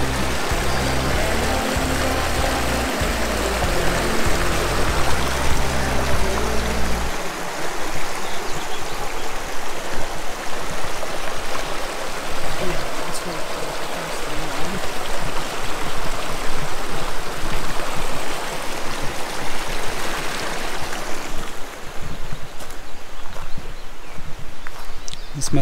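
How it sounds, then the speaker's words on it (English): A small creek near Mono Meadows in Yosemite National Park flows steadily with continuous babbling and trickling water, close and fairly loud, with a few low knocks early on. "Nice little creek."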